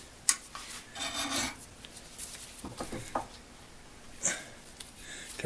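A hand file rasps across the metal of a North Bros Yankee No 990 drill press vise in a few short, close strokes, with a sharp tap near the start and quieter scraping between.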